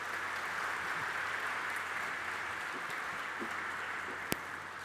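An audience at a corporate wealth-creation study event applauds to welcome the chairman, a steady, dense wash of clapping lasting throughout, fairly distant and even in loudness, with one sharp click near the end.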